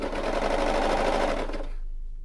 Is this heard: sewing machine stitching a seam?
yes